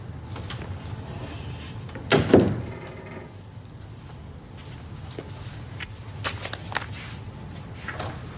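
An office door pushed shut with a single solid thud at the start, followed by light room shuffling and faint movement noises, with no one speaking.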